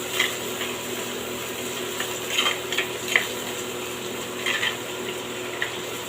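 Shallots, garlic, curry leaves and green chilli sautéing in a pan with popped mustard seeds, a soft steady sizzle with occasional scraping stirs of a spoon, close and quiet, no voices.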